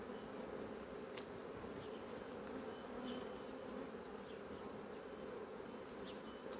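Bees buzz in a dense, steady hum around an open beehive during spring expansion work after overwintering, a continuous near drone with no talk.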